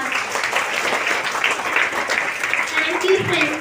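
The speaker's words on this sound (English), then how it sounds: "Give her a big round of applause." An audience at a school assembly claps and applauds continuously, a dense steady patter of many hands, with voices mixed in.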